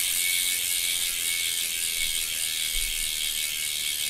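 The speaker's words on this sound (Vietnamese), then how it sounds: "Nhưng con này quay chậm này nó vẫn còn tách tách tách tách tách tách kìa." A Campagnolo carbon disc-brake wheel with a ceramic-bearing hub spins freely, its loud freehub ratchet buzzing as a fast, continuous stream of close, bright clicks with no talk over it.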